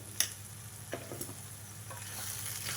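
Chana dal and coconut curry with coriander and garam masala is stirred in a pan. A few soft scrapes and clicks of the spoon sound over a steady low stove hum, with no talking.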